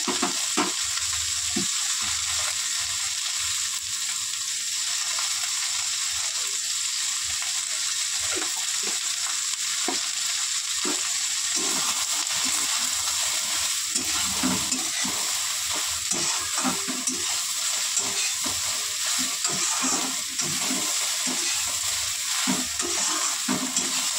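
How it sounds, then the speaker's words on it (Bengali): Soya chunks fry in a pan, giving a loud, continuous hissing sizzle over a long stretch, with frequent scraping and knocking from stirring. "তো এবার সোয়াবিনগুলো ভেজে নেব।"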